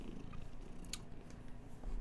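A small cat purrs softly and steadily up close, a low continuous rumble with a gentle rhythmic pulse and no other sounds over it.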